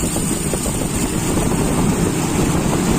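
A Toyota Kijang carburetor engine runs loud and steady at raised revs, a dense continuous roar with rough low rumble and no clear breaks or spoken voice.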